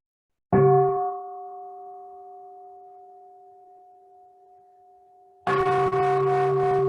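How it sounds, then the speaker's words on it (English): A meditation bell is struck once during an online Buddha Purnima celebration, ringing out with a clear tone that fades slowly over several seconds, then a second strike rings loud near the end, with no talking. "I'm going to invite the sound of the bell just to pause between this eating meditation"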